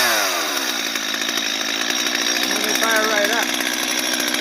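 A STIHL chainsaw, an MS 250 or MS 170 with a freshly cleaned carburetor, roars steadily and loud at close range after starting on choke, with a rising engine pitch and a brief voice over it.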